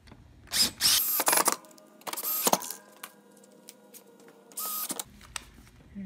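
Screws are driven into the frame of a rocker recliner mechanism, with several short bursts of a power driver or drill whirring between pauses, close and fairly loud.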